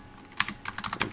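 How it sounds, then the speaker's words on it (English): Quick bursts of computer keyboard typing, close and crisp, as someone types code into a Blazor WebAssembly project; the keystrokes come in short clustered runs with brief gaps. "I'm just going to type in loading"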